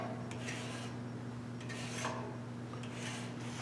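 A rasp file scrapes over body filler on a 1974 Cutlass car bumper in a few slow, rough strokes, close and fairly quiet against a steady background hum.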